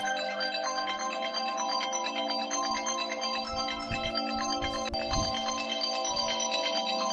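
Mobile phone ringtone sounding continuously, a tinny looping electronic tune at steady level, with a few faint low thumps of background movement beneath it and no speech.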